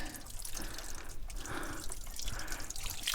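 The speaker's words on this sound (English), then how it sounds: "you can get a good pressure of water coming out of the hot water heater" Water rushes steadily out of the drain opening of an RV hot water heater during flushing, a close, continuous splashing flow with no talking.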